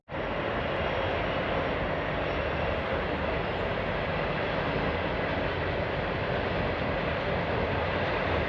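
A loud, steady rumble of a large train passing close by, continuous broadband roar with no breaks, nothing else audible.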